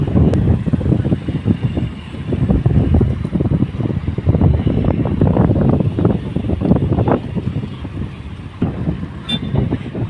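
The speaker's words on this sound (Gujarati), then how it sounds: "બોટ આવી આવી રહી છે ફિશિંગમાંથી" A fishing boat's engine rumbles steadily nearby as it arrives at Mangrol harbour, mixed with wind buffeting the microphone, a continuous low churning drone with no talking.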